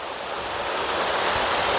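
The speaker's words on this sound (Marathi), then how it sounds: "खूप सुंदर असा धबधबा बघायला मिळतो आपल्याला इथे" A monsoon waterfall near a hot spring pours in a continuous broad roar, steady and fairly close, swelling slightly toward the end with no voices.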